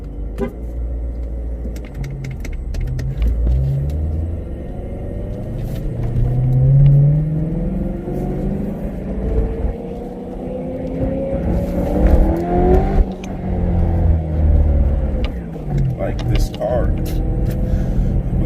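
A supercharged BMW E92 M3 engine running on E20 fuel revs and drones loudly throughout, pitch climbing and falling with acceleration, while a person talks over it.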